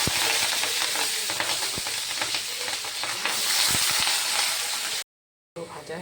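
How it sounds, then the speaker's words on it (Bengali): Potatoes fry in plenty of oil in a kadai wok, giving a loud, steady crackling sizzle with occasional stirring clicks close by, briefly cut off near the end. "আলু ভাজা বসিয়ে দিলাম, মানে বসিয়ে দেবো বলে কড়াইয়ে প্রচুর তেল দিয়ে দিয়েছি"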